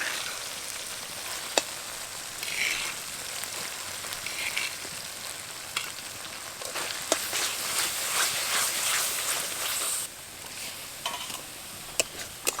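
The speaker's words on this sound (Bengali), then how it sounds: "আবারও মশলার সাথে খুব ভালোভাবে কষিয়ে নেব" Spice paste cooking with onion and tomato paste in a pan for a soya chunk curry, a steady hissing sizzle with occasional clicks and scrapes of stirring, close and without voices.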